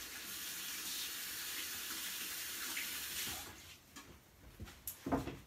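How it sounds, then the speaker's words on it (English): Kitchen faucet water flowing steadily as hands are washed in a baking class setting, a close even rush for a few seconds that then breaks up into splashes and clunks as the tap is shut off. "I'm gonna wash my hands."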